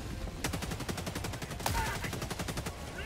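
Mortar strikes land during Helldivers 2 gameplay as a rapid run of sharp, loud impact bursts with rumbling low end, dense and continuous across the span, one heavier blast about midway.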